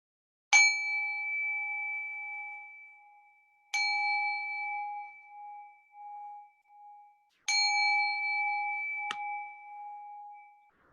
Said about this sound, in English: as I go ahead and ring the bell.